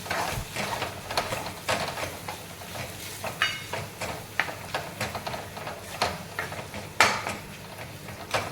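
Mutton keema sautéed in oil, heard as scraping spoon and clattering pan knocks in an irregular rhythm over a low frying sizzle, close and fairly loud with no talking.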